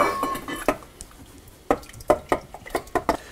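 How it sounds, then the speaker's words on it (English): Eggs being whisked into brownie batter in a mixing bowl for s'mores brownies, heard as a series of sharp clicking taps of whisk against bowl in uneven bursts, with a quiet gap in the middle. "we're just going to whisk that in until I get it completely combined"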